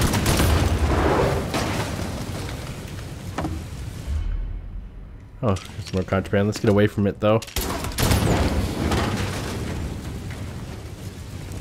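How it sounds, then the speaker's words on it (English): Explosions and gunfire in the video game Mafia 3, heavy booming blasts and rumbling at the start and end, with a player talking over a quieter stretch in the middle. "There's freaking explosions going on."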